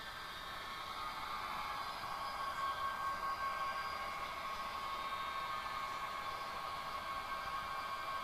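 A model train locomotive coasts downhill at close to idle on a mountain mainline layout, giving a steady, even whirring hiss with a faint background hum that holds constant throughout.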